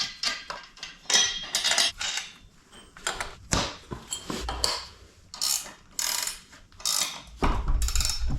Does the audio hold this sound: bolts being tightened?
yes